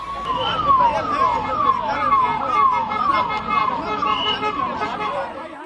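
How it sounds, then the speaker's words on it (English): Emergency vehicle sirens wail in a repeating falling pattern over a busy crowd scene at a Delhi railway station after a stampede, steady and moderately loud beneath a murmur of chatter. "And in the distance, the sound of sirens."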